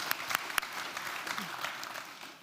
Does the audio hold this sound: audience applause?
yes